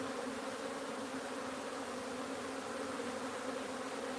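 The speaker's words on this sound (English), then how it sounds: "look at all the bees back there on that chunk of comb" Honeybees swarm around a chunk of comb from a wild beehive, producing a faint, continuous buzzing hum that stays even throughout.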